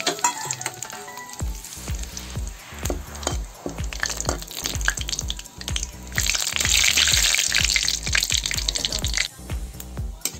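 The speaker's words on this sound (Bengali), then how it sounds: "কড়াইতে তেল দিয়ে দিয়েছি, তেল গরম হয়ে গেছে। এখন দিয়ে দেবো এই যে তেজপাতা, দারচিনি, ইলাইচি আর জিরা, এটা দিয়ে দেবো।" Bay leaf, cinnamon, cardamom and cumin hit hot oil in a kadai, setting off a loud close sizzle with crackling spits and clattering stirs that swell into steady vigorous frying.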